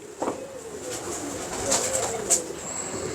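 Pigeons kept for competitive flying coo softly inside a loft, with several low calls scattered over a steady background hum and a few brief sharper bird sounds.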